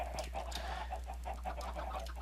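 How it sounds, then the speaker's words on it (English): Minecraft chickens cluck in a packed Thaumcraft-modded farm pen, with short repeated clucks overlapping steadily over a low constant hum. "There's no space for more chickens."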